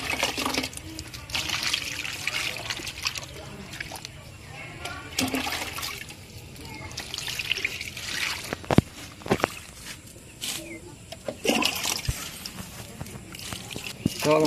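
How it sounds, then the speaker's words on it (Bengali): Water is poured onto a potted Pakistani orange sapling, a close, uneven splashing and sloshing stream with sharp drips and pauses, while a person talks over it. "চলো ভালোভাবে গাছটাতে জল দিয়ে দিই।"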